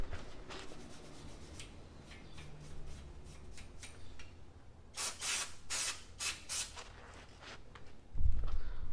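Brake cleaner is sprayed on Volvo S60 Turbo front brake parts in short, sharp hissing bursts, loud and close, mixed with rubbing and scraping handling noise and a low thump at the end.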